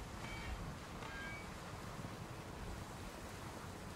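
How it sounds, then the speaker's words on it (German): Steady rushing water in the video game One Way Home, a broad continuous wash heard alone at an even, fairly loud level throughout. "ich höre ja immer noch das Wasser"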